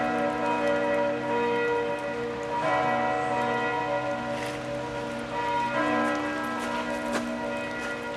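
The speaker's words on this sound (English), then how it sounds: "we got noon bells going off, so you hear them all over the place now" Church bells in Salzburg, Austria ring at noon repeatedly with long, overlapping tones that layer into a sustained peal, with steady background noise and no talking.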